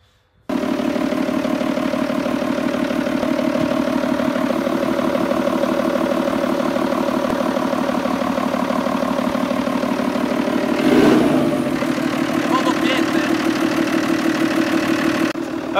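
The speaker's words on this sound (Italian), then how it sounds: "Mike sta spostando il mezzo adesso senza l'utilizzo delle marce" A vehicle's engine idles steadily while it is moved without using the gears, a continuous rumbling drone with a brief louder surge partway through.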